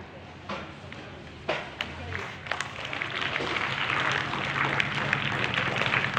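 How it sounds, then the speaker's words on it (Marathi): An audience applauds to welcome a medal recipient at a ceremony, with clapping swelling from scattered claps into sustained applause that stays moderately distant and fills the second half. "टाळी जोरदार वाजली पाहिजे"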